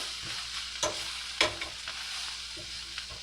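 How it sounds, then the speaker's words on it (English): Vegetables sauté in a hot pan with a steady, dense sizzle, broken by a couple of sharper clatters from stirring. No one speaks. "I'm going to saute them up just a little bit more"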